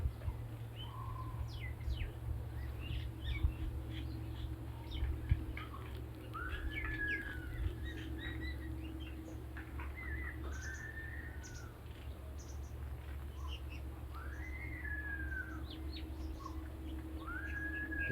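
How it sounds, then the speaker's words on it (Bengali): Birds calling among tall trees beside a small river, scattered chirps and whistled calls near and far over a steady low hum, no talking. "পাখির ডাক"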